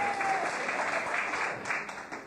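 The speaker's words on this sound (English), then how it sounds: "Oh, let's give them a clap, shall we, cast?" Audience at a 1990 amateur light operatic music hall show claps steadily for the cast, a dense, close, even patter of many hands that eases off slightly toward the end.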